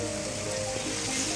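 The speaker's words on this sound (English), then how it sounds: "Can you hear that rain?" Soft, steady patter of rain falling outside a campsite, a faint continuous hiss with scattered drops, quiet and uninterrupted for a brief moment.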